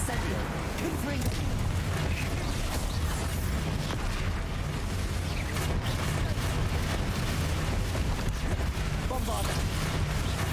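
Spell effects from Incendio and Confringo in Hogwarts Legacy, a continuous dense wash of fiery blasts and rumbling booms with no gaps, loud and steady throughout.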